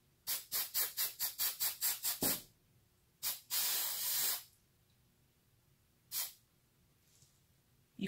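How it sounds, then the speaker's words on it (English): Spray paint from an aerosol can hisses onto styrofoam in a rapid series of about nine short bursts, then a few longer sprays separated by quiet gaps, all close to the microphone. "And if you just spray that,"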